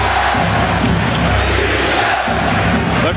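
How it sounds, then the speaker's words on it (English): A capacity crowd at Madison Square Garden during a 1993 Bulls–Knicks playoff game chants in loud, rhythmic unison, a dense wall of voices filling the arena without pause. "The chant of defense from this capacity crowd of the Garden."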